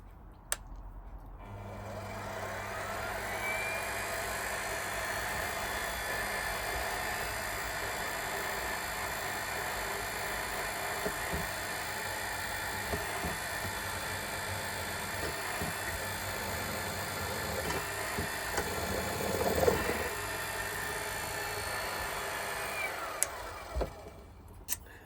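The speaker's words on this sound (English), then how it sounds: "drilling onto a round part here, so I'm hoping that this is quite a medium-sized spot drill" A medium-sized spot drill bores into a round metal part, producing a steady, loud mechanical whirring drone that holds evenly for the whole stretch, with a brief rougher scrape near the end.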